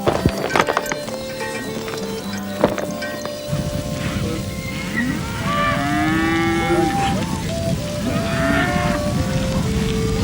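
Cattle on a dusty country-road cattle drive moo repeatedly, with long low bellows overlapping, some close and some farther off, over steady herd noise, with faint hoofbeats and a horse in the mix.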